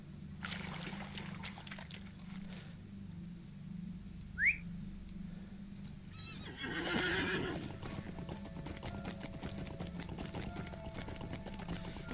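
Horse hooves clip-clop steadily throughout in the fantasy online game Lord of the Rings Online, in the Angmar region, with a short whinny midway and a swell of splashing water as the horse reaches a river.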